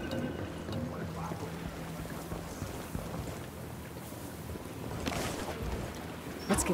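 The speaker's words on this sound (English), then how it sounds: "We steal the boat and then take it to the RP so Bowman's people can give it the once-over" A boat motoring along a river in the video game Ghost Recon Wildlands, with a continuous low engine drone, wind buffeting and splashing, and occasional soft thumps.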